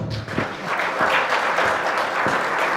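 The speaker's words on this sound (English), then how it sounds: "Ladies and gentlemen, I think that round of applause is not enough" A seated audience at a girls' education event claps together, a full, even burst of applause at close range with a few sharper individual claps standing out.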